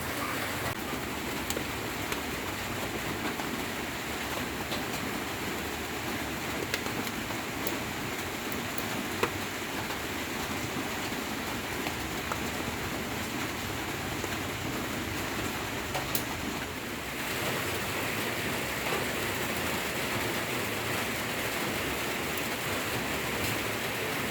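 Steady rain falls at an outdoor market in Phalanxay, Laos, a continuous hissing wash that stays even and fairly loud for the whole stretch, with a slight shift in texture partway through.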